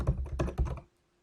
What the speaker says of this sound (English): Oops, not very good at typing.